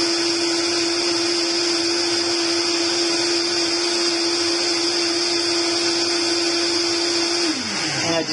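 Vitamix blender whirring on high speed with juice ingredients, a loud, steady close-up motor whine with a constant pitch that drops away as it winds down at the very end.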